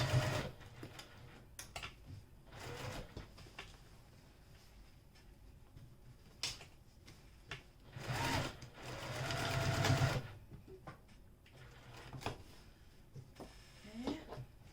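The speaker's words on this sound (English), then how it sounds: "I'm gonna go ahead and sew these together." A sewing machine joins fabric pieces with a small stitch, running in several separate bursts of whirring stitching with quiet pauses between, fairly close and moderately loud.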